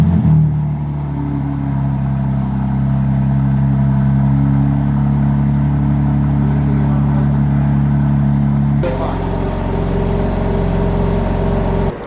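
A bone-stock BMW G80 with its factory exhaust idles in a deep, steady, droning rumble close to the microphone, its tone stepping up noticeably toward the end, with no talking.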